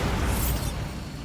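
A Bombarda blasting spell in Hogwarts Legacy goes off as a short, loud, booming burst with a rumbling low end that fades quickly.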